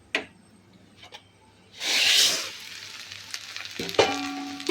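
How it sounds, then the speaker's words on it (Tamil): Flattened rice (aval) poured into a pan and roasted on low heat, a short rushing pour and hiss, then stirring scrapes and a metallic clank near the end, close, with no speech. "இப்போ இதை அவலை கொட்டி வறுத்துக்குவோம்."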